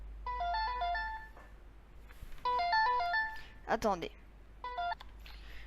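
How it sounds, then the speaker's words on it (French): A telephone ringtone plays a repeating melodic beeping pattern in three bursts inside a room, alongside a Fortnite Battle Royale game, with a person speaking over it. "c'est la sonnerie du téléphone qui est là, ça fait beaucoup de bruit"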